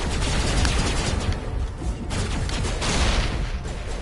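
Rapid assault rifle fire in the video game Mass Effect, dense bursts of shots crackling continuously across the whole stretch, loud and close with booming low impacts mixed in.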